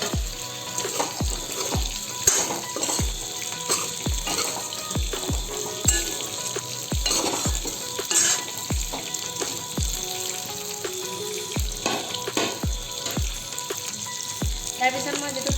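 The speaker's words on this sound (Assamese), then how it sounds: "এতিয়া মই মাংসখিনি ৰঙচুৱা হোৱালৈকে 20 মিনিটমান ভাজি ল'ম ল' ফ্লেমত" Meat and a potato frying in a pan over a low flame, a steady close sizzle with repeated soft stirring knocks and scrapes at a regular rhythm throughout.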